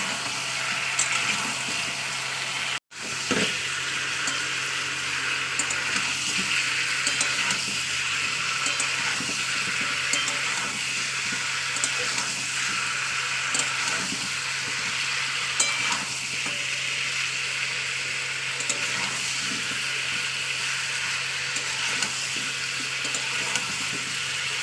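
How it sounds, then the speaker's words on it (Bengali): Meat pieces fry in a pan with a constant, close sizzle and crackle, broken by a brief drop-out early on, and occasional scraping as they are stirred. "দিয়ে এটাকেও আবার ভালো ভাজা করে নিতে হবে"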